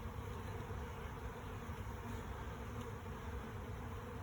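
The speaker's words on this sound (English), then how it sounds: "I'm gonna let the bees kind of settle down a little bit. They should be flying in." Honey bees buzz steadily around a hive entrance as they settle and fly in, a dense continuous hum that stays even and fairly quiet throughout, with no talking.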